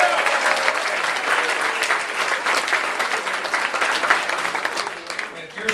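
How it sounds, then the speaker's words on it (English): Sustained, loud audience applause at the Comedy and Magic Club, dense clapping from a crowd filling the room for the wait staff, with a few cheers and voices mixed in throughout. "Let's give a big round of applause to the wait staff here at the Comedy and Magic Club"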